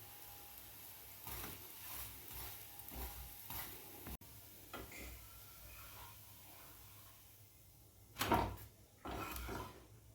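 A sweet jaggery dosa fries in oil on a pan, a steady low sizzle broken by several scraping, stirring clatters and one louder burst of hissing as oil hits the hot surface.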